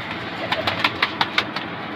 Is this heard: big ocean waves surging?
no